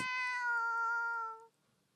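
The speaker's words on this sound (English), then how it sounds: "Is that a cat I hear meowing just outside?" A cat in a video game gives one long, clear meow that holds steady for about a second and a half, then stops, leaving quiet.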